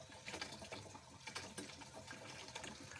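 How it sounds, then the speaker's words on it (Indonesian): Water gushing steadily out of a hose at a demineralization plant cation unit, a continuous close, loud rushing splash with no talk over it. "Kita lihat di bagian kation, airnya sudah keluar."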